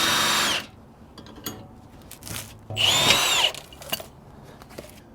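A power tool drives a 32mm socket to loosen a nut on a Lexus IS 200t rear suspension, giving short loud whirring bursts separated by quiet pauses, with no talk.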